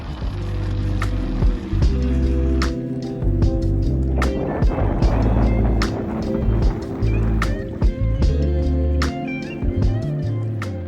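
A DYU C3 e-bike on a test ride rolls along a road with loud continuous wind and rumbling tire noise, broken by sharp clacks and rattles from bumps, recorded up close on the move.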